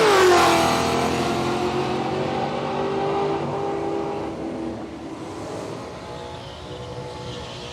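A nitrous-assisted Holden Commodore Ute launching down a drag strip at Willowbank Raceway, a loud engine roar rising in pitch and then fading as the car pulls away into the distance, with no talking.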